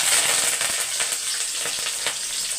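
Mustard seeds, cumin, green chilies and curry leaves frying in hot oil make a steady, close crackling sizzle with sharp little pops throughout.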